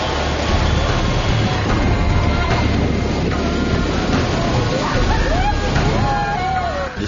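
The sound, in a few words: ocean waves breaking at a Tahiti surf spot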